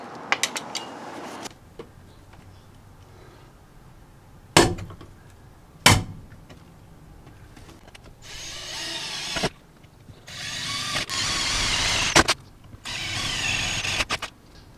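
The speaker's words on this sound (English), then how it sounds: "my circular saw here so I can cut the hole for the master cylinder out" A circular saw cuts an inch-and-a-quarter hole for a brake master cylinder during a Lexus SC drift build, with broadband bursts of cutting near 8.5 to 9.5 seconds and 10 to 14 seconds, after a few sharp knocks and clanks.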